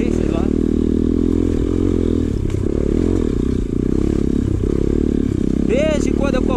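A trail motorcycle on a large group trail ride and hill-climb challenge in Fortuna de Minas, Brazil, drones loudly and steadily close by, its engine climbing briefly near the end while a voice talks over it.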